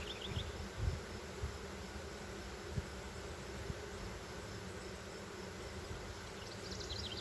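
Honey bees hum around an open hive during an inspection and split, a low continuous buzzing with a few soft thuds from handling frames, no voices.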